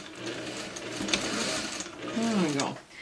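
Home sewing machine making a few stitches in place during quilting: a soft mechanical whirring and clatter, close and fairly quiet, with a voice speaking briefly over it.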